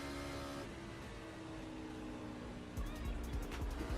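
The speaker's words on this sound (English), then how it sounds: "I actually panic downshifted." An IndyCar engine in iRacing drones steadily on an oval, then a sudden panic downshift near the end sends the revs jumping in quick blips and falling pitch sweeps.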